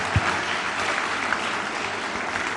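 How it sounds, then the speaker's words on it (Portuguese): An audience at a youth leaders panel in Mozambique applauding steadily, a dense wash of clapping hands sustained throughout. "Uma forte salva de palmas."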